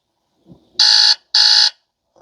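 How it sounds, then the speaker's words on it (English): Two loud electronic beeps from a Motorola G Stylus 2024 smartphone alarm, each lasting about a third of a second with a short gap between, clear and close with no voices. "Alarms."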